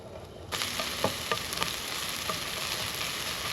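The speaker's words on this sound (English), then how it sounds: "whack our onion on first" Chopped onion drops into a hot pan at an outdoor cookout and sizzles steadily, with a few sharp crackles and pops over a continuous frying hiss.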